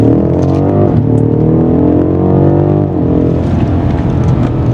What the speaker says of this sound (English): dropping down a gear